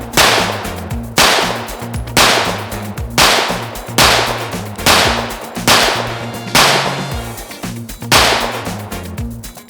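Tisas PX-9 Duty Comp pistol firing Remington UMC ammunition at a range: eight loud, sharp shots spaced about a second apart, each with a short ringing tail, no talk.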